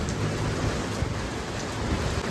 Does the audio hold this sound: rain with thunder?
yes